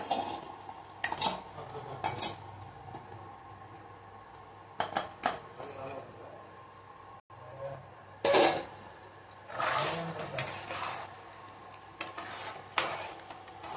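Paneer stirred into boiling water in a cooker pot, with a series of close scraping and clinking strokes of a spoon against the metal over a low bubbling hiss.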